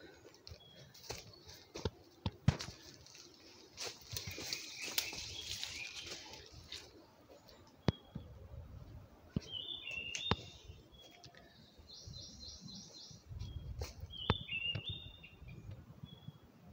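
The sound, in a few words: birds chirping in a forest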